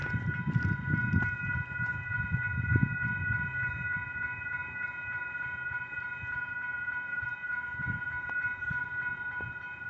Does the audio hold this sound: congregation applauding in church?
no